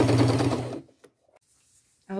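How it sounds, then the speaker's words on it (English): A sewing machine stitches down the sides of cargo jeans in a fast, buzzing run for under a second, then stops, leaving near silence with a faint click. "I will probably unbutton this and sew down the sides."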